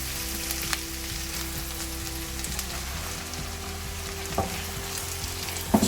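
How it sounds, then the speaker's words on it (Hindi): Chicken pieces frying in oil, producing a continuous crackling sizzle at moderate level, close by, with a few soft stirring knocks scattered throughout. "चिकन को भी थोड़ा सा फ्राई करेंगे"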